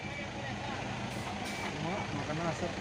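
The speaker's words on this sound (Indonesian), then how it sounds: "Truk trailer Nissan ini ya." A Nissan trailer truck rumbles steadily with a low diesel engine drone close by, continuous throughout with some higher hiss, while people talk over it.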